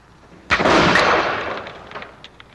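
A single rifle shot fired at a stone at the base of a tree in the woods cracks out loud and close, then rolls away in a long fading echo.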